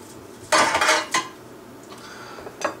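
Grilled shrimp are set down on a plate, giving a few close clinks and clatters of plate and utensil, then a quieter clink at the end, with no talking.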